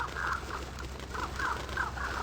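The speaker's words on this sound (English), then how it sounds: "So you're gonna summon the crows." Summoned crows in Vampire: The Masquerade – Bloodlines give repeated harsh caws in short bursts, several calls spaced across a steady low background hum with no speech.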